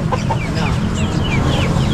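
Chickens at an outdoor pet market, clucking in a busy mix of market noise with a faint voice in the background.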